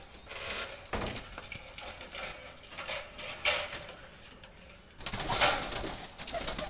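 Golden pigeons cooing in a home loft, several soft coos repeating near and far over a steady background hiss, with brief clinking bursts, no talk.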